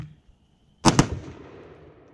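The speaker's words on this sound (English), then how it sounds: "this is a very nice rifle to shoot just right off the bat" A single sharp, loud report from an LMT PDW rifle, alone, with a short echoing tail fading behind it.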